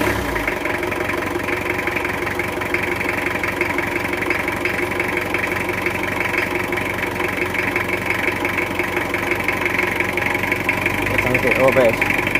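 A Toyota Kijang diesel engine with newly replaced pistons runs at a steady, even idle, giving a close, continuous mechanical clatter and hum throughout, with a slight rise in level near the end.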